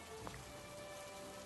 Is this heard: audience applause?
no